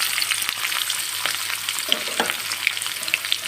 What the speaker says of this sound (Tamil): இதெல்லாம் நல்லா ஃப்ரை பண்ணி எடுத்துக்கலாம்